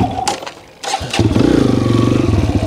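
A Kawasaki KLX 140 dirt bike engine starts up close by and settles into a loud, throbbing rev with a fast, even pulse.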